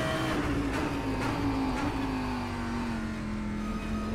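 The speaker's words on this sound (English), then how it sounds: "Sound while downshifting braking." A GT3 race car engine in the rFactor 2 racing game drones with a steady whine that slowly falls in pitch as it downshifts and brakes, with faint clicks underneath.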